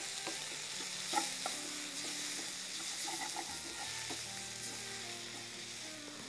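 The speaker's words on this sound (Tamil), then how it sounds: "இந்த ஸ்டேஜில் இந்த மிளகு தூள், அதில் கூட கரம் மசாலா இந்த போட்டிருக்கேன். இது வதங்கிட்டுருக்கட்டும்." Pepper powder and garam masala sauté in a pan with a steady soft sizzle and light stirring scrapes, a faint clink near the start, with background music and no voices.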